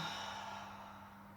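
A soft, steady exhale during a gentle yoga session for older adults, a breathy hiss fading slowly over about a second with no talking over it.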